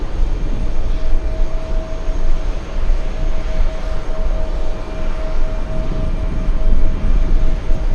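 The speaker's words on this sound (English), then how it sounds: "Runway 13 right, cleared for takeoff" An airliner takes off from runway 13 right at Kennedy airport, a steady loud jet roar with deep rumble and a faint tonal whine, continuous and fairly close throughout with no talking.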